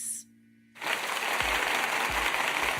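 Applause sound effect, a dense steady crowd clapping that starts suddenly after a short quiet pause and stays loud to the end, with a few low thumps underneath.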